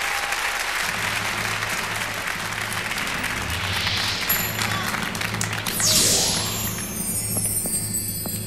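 Arena audience applause at the end of the Cypriot entry at the 1992 Eurovision Song Contest in Malmö, a continuous roar of clapping with music and stage sounds underneath and a rising swoosh near the end.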